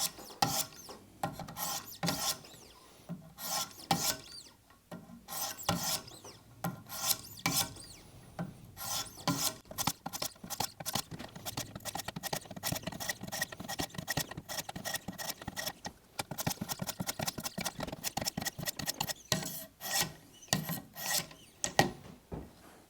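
Hunting knife, a Schrade PH1, sharpened on an 800 grit stone: repeated rhythmic scraping strokes of steel across stone, close and fairly quiet, in quick runs with short pauses, no talk.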